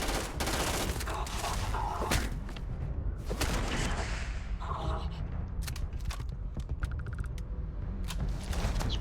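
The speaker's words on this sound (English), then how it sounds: "Let's shoot my robots." Sci-fi gunfire rattles through a firefight against robots in the video game Starfield, with repeated loud bursts over a busy, dense mix of game effects and background sound.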